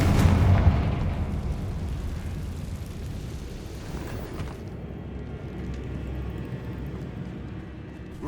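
A Confringo fire spell explodes in Hogwarts Legacy: a loud opening boom that rumbles on with a low, fading roar and crackle for several seconds, alone.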